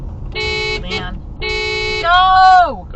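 A car horn honks in traffic: two sustained blaring blasts separated by a short pause, then a third honk whose pitch bends and drops away. The sound is loud and close.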